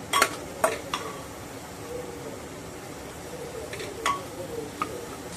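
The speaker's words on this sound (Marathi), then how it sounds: "1 ते 2 मिनिटं सॉटे करून घेऊया" Prawns coated in turmeric, salt and ginger-garlic paste sauté in a pan over high flame, a soft continuous sizzle marked by a few sharp clicks of a utensil against the pan.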